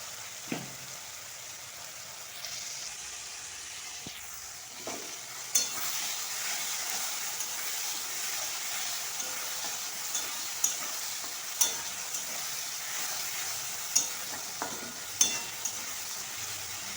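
Onions and tomatoes softening with salt in a pan for a broccoli curry, giving a steady low sizzle with occasional scraping stirs and light clinks, close and unaccompanied by voices.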